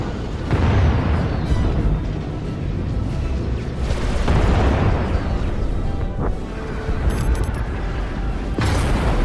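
Spaceship weapons fire and explosions in Star Wars: The Old Republic, a steady loud wall of rumbling booms and bursts with several sharper blasts standing out, continuous throughout with no break.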